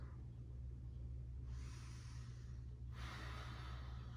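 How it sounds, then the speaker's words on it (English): Slow deep breathing during a held fitness stretch, two long airy inhales or exhales drawn close to the microphone over a steady low hum, with no talking. "Take some deep breaths."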